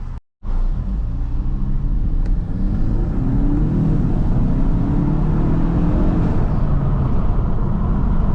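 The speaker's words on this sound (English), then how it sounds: "I'm gonna take off from the line" After a brief silence, a Kia Stinger launches from a stop at a traffic light, its engine roaring loudly as the pitch climbs through several gear pulls.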